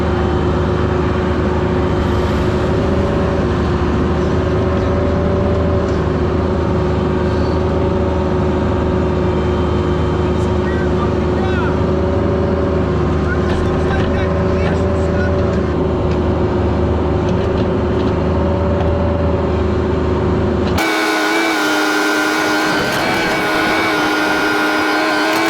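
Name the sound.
mini excavator digging near a pole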